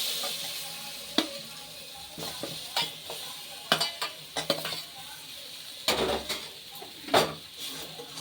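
Potato and papaya pieces frying with spices in a pan for egg curry: steady sizzling crackle under repeated clattering scrapes of a spatula against the metal, close and fairly loud, no talking.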